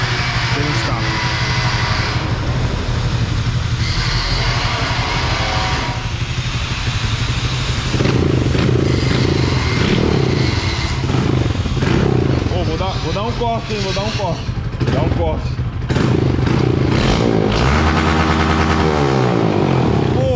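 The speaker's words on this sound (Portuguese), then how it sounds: "XRE190 só o cano, rapaziada." A Honda XRE 190 motorcycle with only a straight exhaust pipe rumbles at idle, then revs repeatedly in loud, rising and falling bursts close by while people talk nearby.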